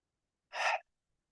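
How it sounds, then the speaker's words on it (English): Yoga breathing: a single short, breathy inhale or exhale, close and moderately loud, alone in otherwise silent surroundings. "Another breath."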